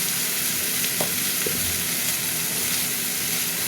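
Fish curry base of cut rohu pieces with potato, chili powder and turmeric powder frying in a pan, a steady close sizzle with faint stirring clinks and no talk.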